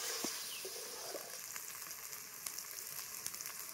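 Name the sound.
masala spice paste frying and being stirred in oil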